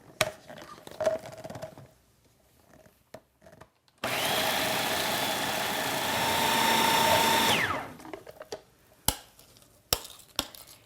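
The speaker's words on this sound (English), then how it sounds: "And we're just going to let this process now in the food processor. We're going to grind it up." A food processor whirs loudly for about three and a half seconds, grinding sunflower seeds with organic tamari, a steady motor drone framed by quieter clatter and knocks before and after.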